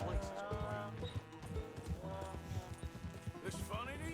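Horse hooves clip-clop in irregular soft thuds on a farm, partly masked by steady talking and low tonal background sound throughout.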